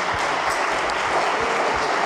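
Assembly audience at a plenary conference session clapping for a person being thanked, a short burst of steady hand claps at an even level with no talk over it.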